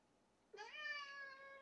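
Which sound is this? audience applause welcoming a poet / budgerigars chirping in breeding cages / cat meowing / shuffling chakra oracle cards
cat meowing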